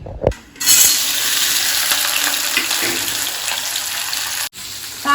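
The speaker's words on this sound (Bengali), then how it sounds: "আর এই যে একটু ঢ্যাঁড়স ভাজা করছি" Okra frying in a pan, a steady hiss and crackle that holds loud and even before cutting off briefly near the end.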